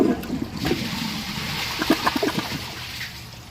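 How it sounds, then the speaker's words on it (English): A Glacier Bay toilet flushes a little dirt from its bowl, a steady rushing of water with gurgles and small splashes, close and alone without talk. "Now let's see if it can flush what little dirt there is in the bowl."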